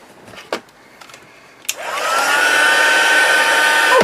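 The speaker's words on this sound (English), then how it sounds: "I'm just going to pop on my heat gun again and just dry off this layer" A heat gun drying a layer of ink on a mixed media journaling card: after a few light taps, the blower switches on and rises into a loud, steady, close whooshing hum that holds to the end.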